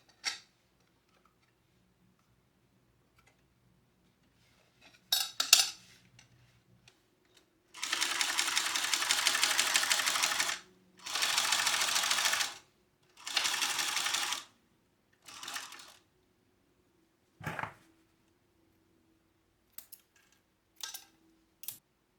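A domestic sewing machine stitches a fannypack in short, separate bursts of rapid whirring, with quiet clicks and handling noises in the pauses as the fabric is pivoted around corners.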